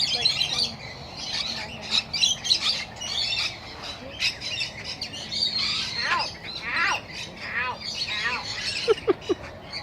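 Pet birds chirp, tweet and squawk in a busy indoor flurry of close calls, with sharp squawks breaking through near the end while a person talks over them.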